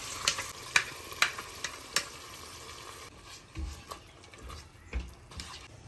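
Tomato, bay leaf and green chillies sauteing in a pan, with a steady sizzle, a run of sharp utensil clicks and scrapes early on, then softer stirring thumps.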